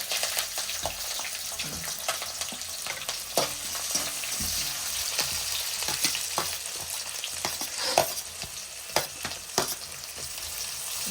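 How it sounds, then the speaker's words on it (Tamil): Onion, green chili and curry leaves sizzle and fry steadily in hot oil for a tempering, with stirring scrapes and clinks of a utensil against the pan throughout; no one speaks. "வெங்காயம், பச்சை மிளகாய், கருவேப்பிலை எல்லாம் விட்டு அதெல்லாம் போட போகிறோம்."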